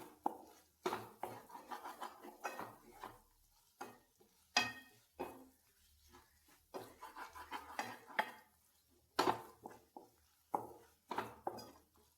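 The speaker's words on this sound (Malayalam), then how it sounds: "ഇളക്കി കൊടുക്കാം." Spiced bread and egg mixture is stirred in a pan, with a run of scraping and clinking utensil strokes against the metal and a faint sizzle, close and fairly quiet, with no voices.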